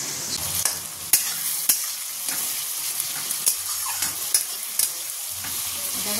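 Tomatoes frying in oil in a pan: a steady bright sizzle throughout, with occasional sharp pops and spatters and faint stirring scrapes, close and fairly loud.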